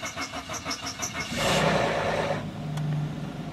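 A Peugeot 407 with a petrol V6 cranks with rhythmic starter pulses for about a second and a half, then fires into a loud roar that settles toward an idle, all close by and without voices.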